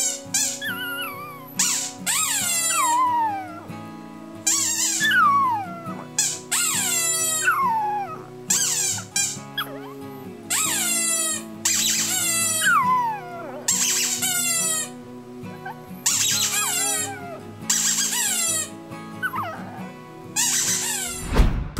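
A Shih Tzu puppy lets out repeated high, sliding squeaky yelps in short bursts with pauses between, mimicking a squeaky stuffed toy, close and fairly loud.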